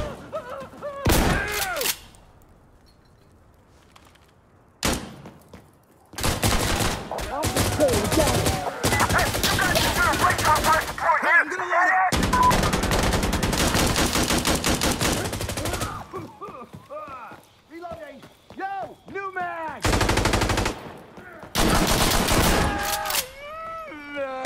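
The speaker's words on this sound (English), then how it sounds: "But let's take a look at these slugs in action." Shotgun slug rounds fired in a video game: loud, heavy blasts in separate bursts with short quiet gaps, mixed with other game effects between shots.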